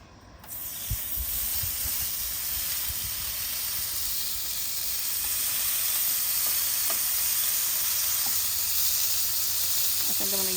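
Bacon sizzles on a Ninja Woodfire XL Pro grill in the morning, a steady, fairly loud hiss and crackle that holds throughout, with a few faint clicks and knocks near the end.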